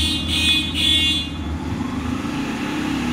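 A Yamaha FZS hybrid motorcycle engine runs at steady high revs, with a continuous low droning hum and a couple of brief higher tones early on, close by and with no talk.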